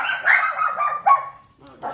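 A dog lets out a few close, loud barks and whiny yips in quick succession, separated by a brief pause.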